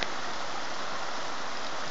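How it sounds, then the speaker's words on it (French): A small waterfall, the Cascade de la Frasnée in the Jura, heard as a steady, dense rush of falling water that is loud and constant throughout with no other sounds. "c'est une petite cascade. Mais d'en haut, on l'entend"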